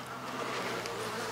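Honey bees in an opened hive during an early spring inspection give a dense, steady buzzing drone, close and loud, with no talking.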